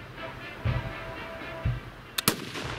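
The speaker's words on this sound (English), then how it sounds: "Here we see a couple of rounds that had a very slight hang fire." A No 4 Mk I* rifle firing roughly 80-year-old WWII-era ammunition with a slight hang fire produces a few muffled distant-sounding reports, followed by a sharp pair of cracks near the end, with no speech.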